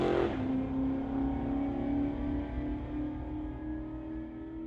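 A 1969 Rambler and a 2003 Mustang launching in a street-legal drag race, engines roaring loud and steady as they pull away, a sustained heavy drone with no pause.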